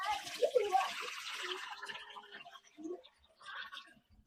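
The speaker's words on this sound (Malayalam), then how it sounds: "ഇനി വെള്ളം ഊറ്റിക്കളയാം." Water splashes and trickles as brown rinse water is poured off washed rice in a home kitchen, a sloshing pour at the start that thins to scattered drips and dribbles.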